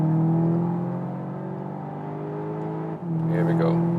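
A Volkswagen Arteon R accelerates from low speed in second gear, its engine note a strong, steady drone heard from inside the cabin, with a short voice near the end.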